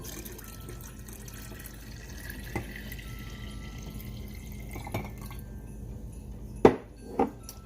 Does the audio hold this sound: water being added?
yes